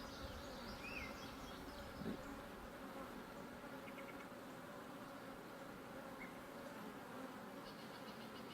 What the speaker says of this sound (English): What's that one bee doing?